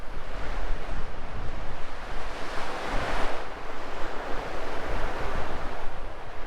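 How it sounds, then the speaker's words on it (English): Strong wind gusting across the beach at Withernsea on the East Coast, with surf rolling in behind, a steady loud roar that buffets the microphone throughout. "Wind's decided to make a show for itself."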